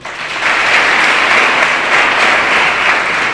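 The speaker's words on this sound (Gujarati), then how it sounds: "આ છોકરા માટે એક જોરદાર તાળીઓ પાડો" An audience claps together at a motivational talk, a dense, loud, sustained wash of applause that swells in and holds steady throughout, with no speech over it.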